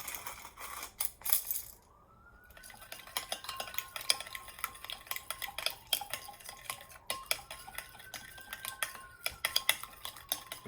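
A spoon stirs a yogurt and mayonnaise dressing with black pepper in a bowl, making repeated close clinks and scraping taps against the dish, with a brief pause before the stirring resumes steadily.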